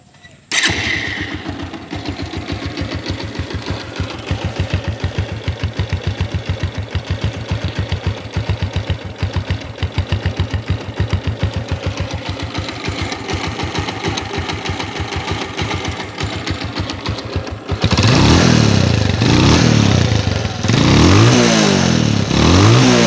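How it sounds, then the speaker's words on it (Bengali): A used Bajaj Pulsar 150 single-disc motorcycle in fresh condition, its engine starting and then running at a steady idle with a rapid even pulse, surging louder as it is revved toward the end. "ইঞ্জিনের সাউন্ড আপনারা শুনতে পারলেন"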